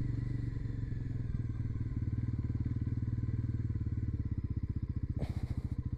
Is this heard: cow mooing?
no